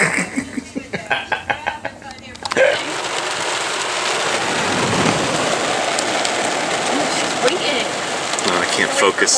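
Steady rain falls on a surface during a rainy vacation, a dense close hiss that takes over after a couple of seconds of quieter rhythmic sound, with no thunder evident.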